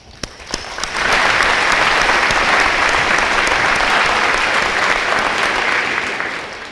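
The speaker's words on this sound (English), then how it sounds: "Let's give a round of applause to all of our friends and our family." A few scattered claps swell within a second into sustained, loud applause from a large commencement crowd at a community college graduation, holding steady before easing slightly at the end.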